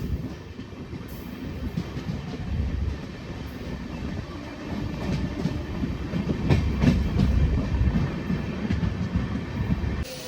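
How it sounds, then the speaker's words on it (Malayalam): The Thiruvananthapuram Central–Chennai Central superfast express, train 12696, approaches Kollam Junction from afar as a low rumble with rhythmic wheel clatter, swelling gradually louder over about ten seconds. "അങ്ങ് ദൂരെ വരുന്നത് നമ്മുടെ Thiruvananthapuram central, Chennai central super fast express"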